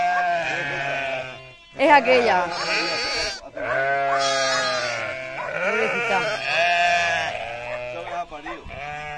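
A lamb and goats bleating loudly and repeatedly on a country path, overlapping cries rising and falling close by, with a person's brief speech mixed in among the calls.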